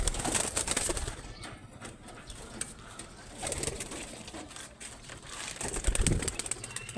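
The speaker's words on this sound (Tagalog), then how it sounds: "ito po ang kalapati ko po" A pet pigeon coos softly in repeated low murmurs, with broadband bursts of wing flapping and rustling close by, and a stronger flurry near the end.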